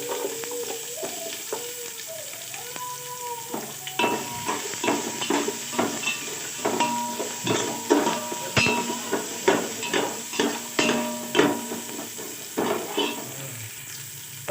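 Chopped onions drop into a hot pan of oil and fry with a steady sizzle, while a metal spoon scrapes and clatters in a regular stirring rhythm against the pan, close and clear.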